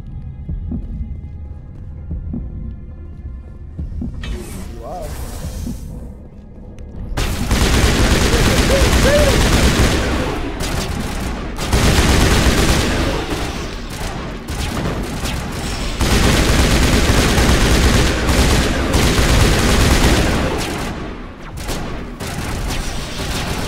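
Heavy, sustained gunfire from the role-playing shooter Mass Effect 1 Legendary Edition. A quiet low hum comes first, then loud, dense bursts that pause briefly and resume, close and filling the scene.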